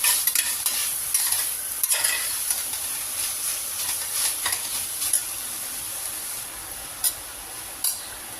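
Ginger garlic paste fries in a pan while a spoon stirs it, a steady close hiss of sizzling with soft scraping strokes and occasional clicks of the utensil, no voices.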